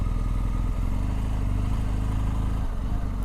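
A group of motorcycles, including what may be Ducati Monster and Multistrada bikes, passing on a New England road in fall, heard as a steady, loud engine drone with throbbing low pulses throughout.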